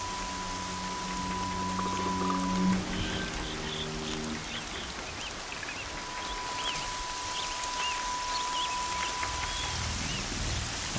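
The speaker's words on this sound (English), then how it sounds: "pouring down rain now." Heavy rain pours steadily in the video game Horizon Zero Dawn, a dense continuous hiss with a few bird chirps and faint tones over it, with no voices.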